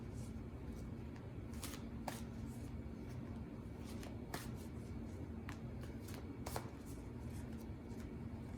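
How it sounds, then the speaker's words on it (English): Tarot cards are shuffled and a deck is cut, producing a series of faint, quick riffling and slapping flicks at irregular intervals over a low steady background hiss. "I'm going to cut the deck."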